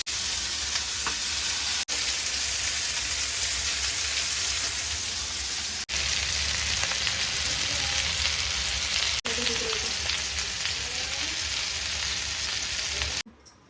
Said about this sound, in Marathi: चिकन आपण फ्राय करून घेतलं आहे